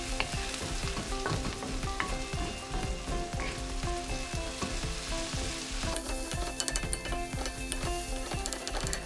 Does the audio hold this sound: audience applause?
no